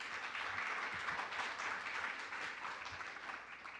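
Conference audience applauding together, a dense, steady wash of many hands clapping that holds at moderate level throughout, with no talking over it.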